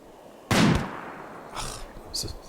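A sniper rifle shot in the video game RimWorld, one loud sharp crack followed by a short decaying tail, then a few fainter game sounds afterward, with no talk.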